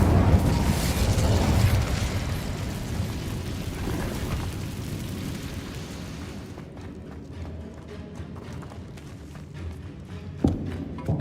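In a Harry Potter video game, the Incendio fire spell goes off as a loud, roaring blast that slowly dies into a crackling, rumbling fade, with a sharp thump near the end.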